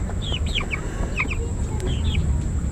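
Backyard chickens raised for meat cluck in short, repeated bursts over a steady low background hum, the calls fairly close and scattered across the moment with no talking.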